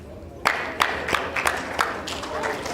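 Scattered applause at an indoor bowls championship after a good bowl, a handful of distinct claps followed by a softer spread of clapping from the crowd.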